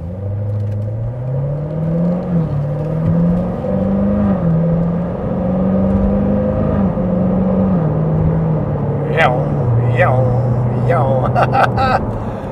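A 2016 Corvette Z06 engine hums and climbs through steady revs in a low drone heard from inside the car, with a few sharp clicks and taps near the end.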